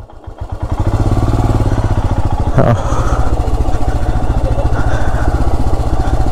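A motorcycle rides down steps on a monsoon ride in Jharkhand, its loud, near, throbbing engine steady with a jolt partway through, under faint voices.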